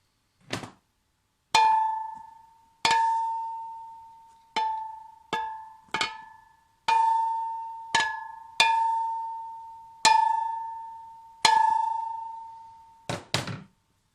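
A metal exhaust pot is struck about a dozen times at an unhurried pace, each hit ringing out with a clear bell-like tone that slowly decays.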